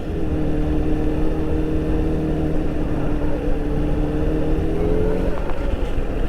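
A Honda CBR1000RR sportbike rides through snow, its engine droning steadily and loud with wavering tonal harmonics that ease off and shift near the end, with no talking.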